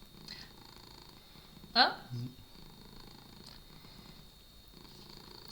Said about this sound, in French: Écoutez le ronronnement